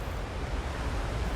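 A waterfall in the video game Hitman 3, on the Dubai level, gives a steady, even rush of broadband water noise that stays constant throughout with no voices.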